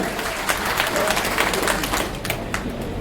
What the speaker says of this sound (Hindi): जोरदार तालियां और अभिनंदन।